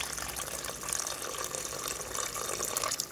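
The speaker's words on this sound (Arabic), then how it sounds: "دابا غادي نمرق بميها سخونه" Hot water pouring into a cooking pot holding meat for a Moroccan prune dish, a close, steady splashing gush lasting a few seconds with no talk over it.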